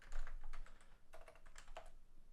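Someone types an email address on a computer keyboard, a quick run of soft, close key clicks in irregular bursts against a quiet room, with no talking.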